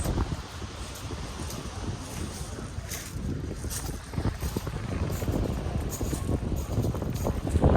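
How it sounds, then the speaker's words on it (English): Heavy wind buffeting a microphone, a constant rough roar and rumble with gusty surges, steady throughout and growing slightly stronger toward the end. "Oh, this wind. Just won't be able to hear a thing."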